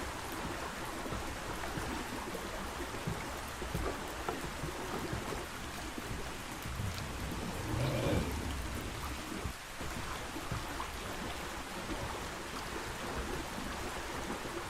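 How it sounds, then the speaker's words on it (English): Steady rain patters continuously at a moderate level, with a soft rumble swelling briefly midway, no voices. "Oh no, it's raining."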